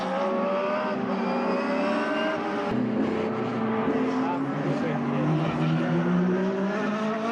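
Formula BOSS race cars at Mondello circuit in Ireland, engines droning and shifting pitch continuously as they lap, with a commentator talking over the steady racing noise.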